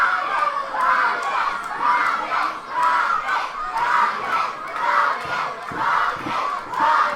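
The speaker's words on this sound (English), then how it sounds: "You hear the crowd here in Oakdale." A wrestling crowd in Oakdale cheers and shouts during a heavyweight title match, rising and falling in repeated rhythmic swells of voices with children's shouts mixed in, loud and continuous.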